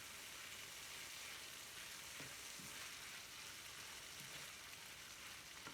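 Shrimp for fajitas fry in a pan, a steady, even sizzle with faint crackles, continuous and fairly quiet, heard alone without voices.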